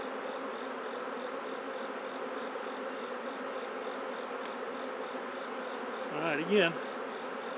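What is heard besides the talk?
honeybees buzzing during a beehive inspection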